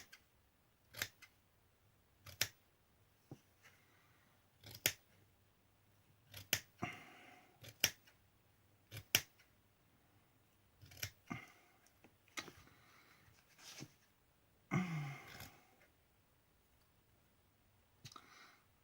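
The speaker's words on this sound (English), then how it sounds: "all I'm going to do is just chop, like fringe this the way I fringed the scarf" Scissors snip fringe into the hat of a craft snowman bauble, giving sparse, irregular sharp clicks, close and quiet, with faint rustling between cuts.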